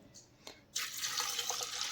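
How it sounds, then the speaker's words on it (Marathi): Water pours from a glass into a pressure cooker holding washed toor dal, a few soft splashes giving way to a steady, close filling gush. "आता आपण ह्याच्यामध्ये दोन ते तीन ग्लास पाणी टाकून घेऊयात"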